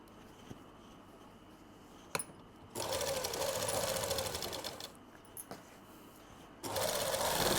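Sewing machine stitching palazzo trousers, running in loud bursts of rapid mechanical whirring separated by quiet pauses and a sharp click, with no talking.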